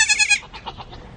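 Goats bleat close by, a short shrill bleat followed by fainter, wavering calls, all within about a second.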